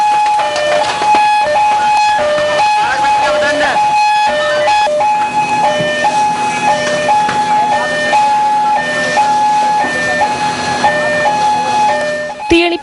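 Fire engine sirens wailing as four fire trucks arrive at a shop fire, a loud two-tone siren cycling steadily and continuously over busy street noise.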